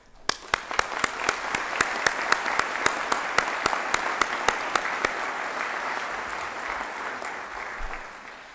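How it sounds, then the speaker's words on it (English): Steady audience applause fills a hall at a spring 2023 doctoral hooding ceremony, honoring new doctoral graduates. Many hands clap together in a dense, even wash that holds throughout, with a few sharper claps standing out early on. "please join the staff and the deans of the graduate school in applauding our new doctoral colleagues for all of their achievements"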